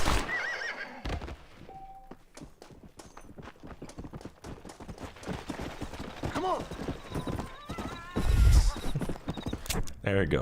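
A horse in the video game Red Dead Redemption whinnies loudly over a steady clip-clop of hooves, with someone talking on top and a sharp burst near the end.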